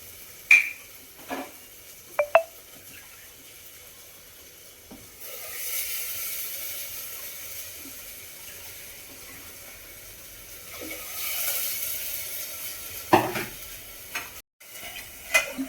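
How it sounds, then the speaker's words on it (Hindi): Water poured from a vessel into salted rice in a pressure cooker for jeera rice, two soft splashing pours separated by quiet, with a few clinks of utensils before and after. "तो ये मैंने चावलों में डाल दिया है पानी"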